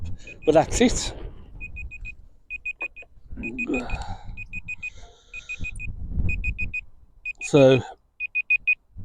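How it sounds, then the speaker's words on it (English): A phone alarm goes off outdoors at a dockside fishing spot, repeating quick clusters of thin high beeps for several seconds while someone talks over them in bursts. "That's my alarm going, saying to tell me to pack up"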